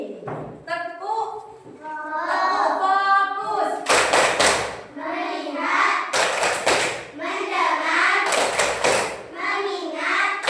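Children in a classroom clap their hands together as an ice-breaking game, sharp rhythmic bursts of group clapping breaking in between stretches of a teacher's talk and children's voices.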